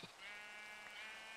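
Sheep bleating in the Minecraft modpack FTB Revelation, a single drawn-out bleat heard up close over steady game background ambience.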